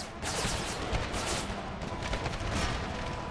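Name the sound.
artillery fire in the video game Empire: Total War mod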